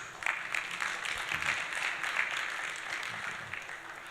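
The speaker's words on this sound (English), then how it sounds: "One more time, a round of applause." An audience at the opening ceremony of an African Union reflection forum claps together, a sustained and fairly even spatter of hands filling the room with no talking on top.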